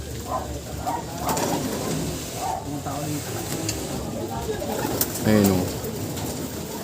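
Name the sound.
pigeons cooing in a pigeon fancier's loft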